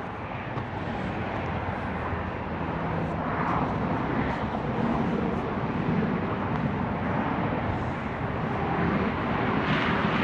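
A Caterpillar D10T bulldozer's diesel engine runs steadily during loading, giving a loud, continuous, rumbling drone that holds even throughout with no voices.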